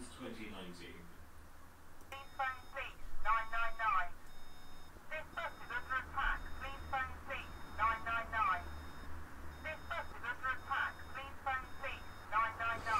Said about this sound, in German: Ja, das ist der sogenannte Panik-Button, ja, den wir hier drücken können, also der Terror-Knopf.